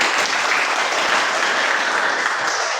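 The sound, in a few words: applause in a classroom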